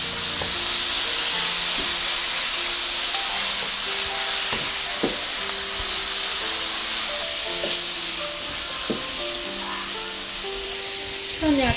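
Beef and bell peppers for black pepper beef sizzle loudly in a hot pan, a constant crackling hiss broken by sharp clacks of a utensil stirring and scraping, with a brief louder burst at the end.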